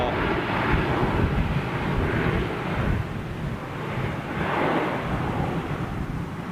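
A jet airliner towed back across the far side of Toulouse airfield gives a steady, broad engine-like rumble with wind buffeting, continuous and moderately loud throughout.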